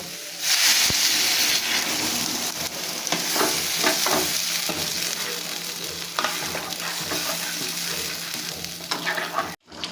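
Potatoes and taro fry with spices in a pan as water goes in, a strong steady sizzle and hiss with scattered stirring scrapes, close and continuous, cutting off abruptly near the end.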